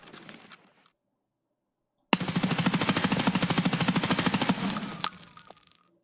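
An M4A1 5.56x45 rifle in a video game opens up on full-auto after a short silence, a fast, even burst of loud close shots lasting about three seconds before cutting off into a brief ringing tail.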